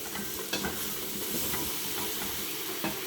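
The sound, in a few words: sautéing vegetables for zucchini soup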